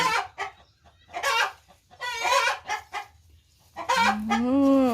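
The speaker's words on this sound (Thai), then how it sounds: "นี่เสียงไก่ดังลั่นเลยพี่น้องเอ้ย" Laying hens cluck in short bursts close by during egg collection in a rural Thai coop, ending with a longer drawn-out call; a low background murmur runs underneath.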